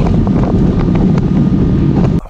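A boat motor drones steadily while cruising up the intracoastal waterway, loud and close, with heavy wind rushing across the microphone, and it cuts off abruptly at the end.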